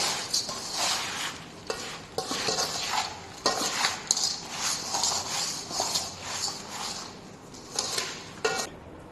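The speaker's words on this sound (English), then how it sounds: "Now we will mix this sample thoroughly." Wet soil sample being mixed by hand in a tray for a compaction test, giving steady scraping and stirring sounds with short, irregular bursts of gritty rasping throughout.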